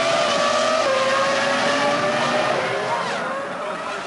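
Formula 1 cars of 2003 racing at the Italian Grand Prix, a loud sustained high engine whine with shifting pitch as cars pass, steady roar fading slightly at the end.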